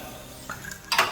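A single hard metallic click lands near the end as a gym cable machine's weight-stack pin locks into place, preceded by a faint tap and light rattling, close by with no voices.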